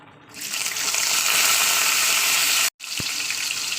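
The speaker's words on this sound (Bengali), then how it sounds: "তেলটা আমার গরম হয়ে গেছে দিয়ে দেবো কাঁচা লঙ্কা পেঁয়াজটাকে" Green chillies and onion drop into hot oil in a home kitchen and set off a loud, steady, hissing sizzle that breaks off for an instant before carrying on, with no speech.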